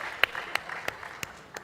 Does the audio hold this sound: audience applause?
yes